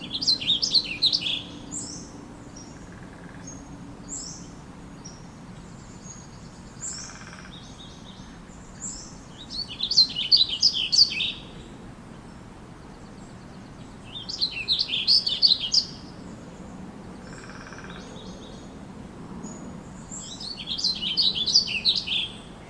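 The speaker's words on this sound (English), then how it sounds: "And Bonnie, may we hear the warbling vireo?" A warbling vireo sings in repeated rapid, rambling warbled phrases, four or five bursts spaced several seconds apart, moderately near and clear over quiet outdoor background.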